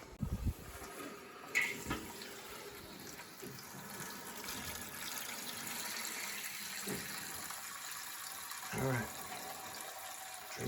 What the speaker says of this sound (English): And then I have a bucket, and I'm going to open up this valve.